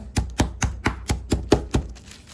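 A hammer pounds a chicken breast wrapped in nylon in about nine even, close, dull thuds, one every quarter second or so, with no voices.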